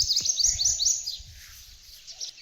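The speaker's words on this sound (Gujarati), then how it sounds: "પક્ષીઓનો કલરવ સંભળાઈ રહ્યો છે." Several birds chirp in quick bright bursts overhead on a cool village morning, with a low rumble of background noise underneath.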